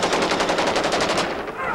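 Rapid automatic gunfire rattles in a fast burst of about a dozen shots during a township battle between Zulus and ANC self-defense units in Thokoza, loud and close, then tails off.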